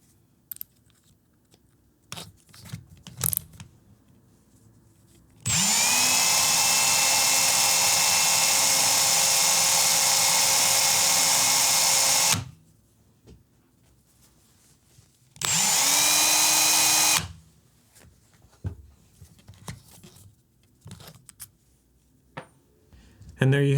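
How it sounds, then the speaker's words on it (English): A rotary tool polishes RC car suspension hinge pins, whining at a high pitch in two loud bursts, a long one and then a shorter one. Quiet scraping and handling noises come before, between and after the bursts. "a completely polished set of hinge pins"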